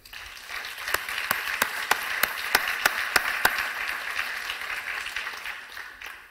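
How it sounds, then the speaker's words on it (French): A small audience at the AFEF 2020 prize ceremony applauds the award winners: about ten sharp, evenly spaced claps stand out over a softer bed of applause that thins and fades toward the end. "je vous propose de les applaudir"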